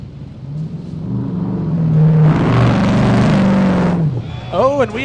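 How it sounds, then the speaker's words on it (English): An off-road vehicle engine roars during a 4WP Every Man Challenge qualifying run, swelling to a loud, sustained bellow that peaks mid-clip and then cuts off, with a voice chirping briefly near the end. "Heard the engine roar and boom, on his side."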